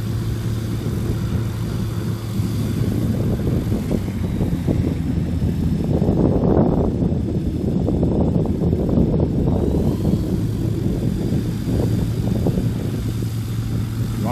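A red STOL short take-off airplane takes off at an air show in DeLand, Florida. Engine drone swells over several seconds, then eases, with wind noise buffeting the microphone throughout.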